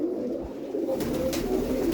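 Soft cooing of a Mykolaiv pigeon, a low repeated burbling call close by, with faint rustling in the background.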